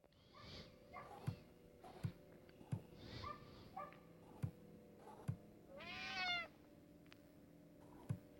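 Repeated cat meows from a Friday the 13th: Killer Puzzle video game, short mewing calls spaced through the stretch alongside regular clicking game effects and a low steady hum, with one longer, brighter yowl near the end.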